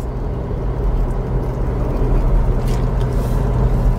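Toyota Fortuner engine idling steadily in eco mode, a low continuous rumble with a constant hum, heard close and alone without talk.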